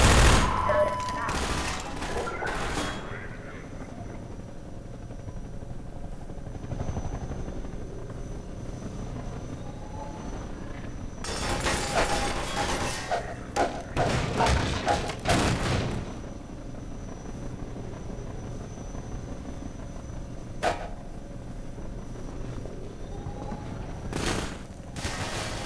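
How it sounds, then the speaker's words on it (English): Enemy gunfire in the Half-Life 2 video game, repeated loud volleys and bursts of shots with sharp cracks over a steady droning background, some clusters dense and others single shots. "Why does that thing fire blue bullets?"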